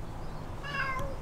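A cat meows once, a short, clear, fairly close call in the middle of quiet outdoor ambience in the village of Castellfollit de la Roca.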